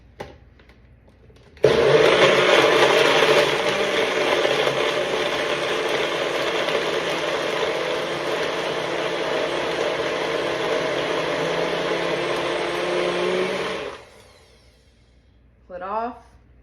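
A NutriBullet blender whirs a smoothie for about twelve seconds, starting abruptly as a loud, close motor roar and cutting off sharply, with brief quiet before and a short sound after.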